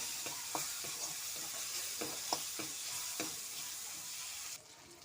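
Spoon stirring masala frying in a pan for Assamese chicken curry: a steady close sizzle with irregular scraping and clinking strokes, then the sizzle drops off abruptly near the end.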